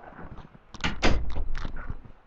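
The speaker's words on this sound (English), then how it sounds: "so I had to close the door" A door is pushed shut with a few close, sharp knocks and thuds in quick succession, then settles.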